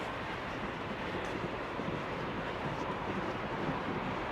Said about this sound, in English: There's a train just going across the high level bridge there.